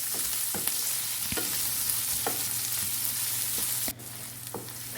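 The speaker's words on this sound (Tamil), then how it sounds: "வெங்காயம் கொஞ்சம் வதங்கட்டும்." Onion and garlic sauté in a pan for mushroom rice, giving a steady close sizzle with a few soft stirring scrapes, then a brief drop in the sizzle before a final clink.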